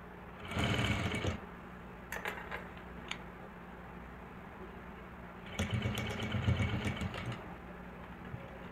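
A sewing machine stitches a lehenga blouse in two loud runs, one short and one longer, separated by a couple of brief clicks and a quiet pause.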